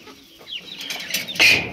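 Desi village hens of about one kilo each cluck and flutter on a Maharashtra poultry farm, brief close calls with a flap of wings and a sharp squawk near the end.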